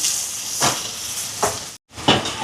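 Green chillies and chopped onion sauté in a pan with a continuous steamy hiss, swelling into three short sizzling surges, with no voices.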